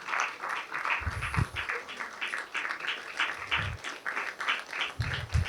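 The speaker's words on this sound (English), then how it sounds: "Keep clapping. You can't stop." An audience at an academy event in Abeokuta claps steadily and at moderate volume, with a brisk, continuous patter carried along by a few deeper thuds and faint voices underneath.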